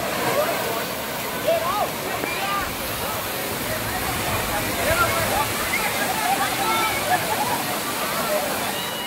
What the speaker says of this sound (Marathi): वॉटरफॉल खूप छान आहे.